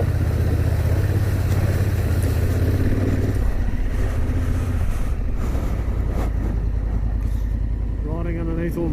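A Honda Africa Twin motorcycle engine drones steadily while riding under power lines in outback Australia, with constant wind rush and a voice talking over the ride near the end.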